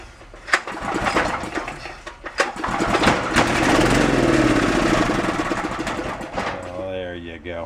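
Small $5 yard sale generator engine cranking with a few sharp pulls and sputters, then catching and running with a steady buzzing drone, close and loud while someone talks over it.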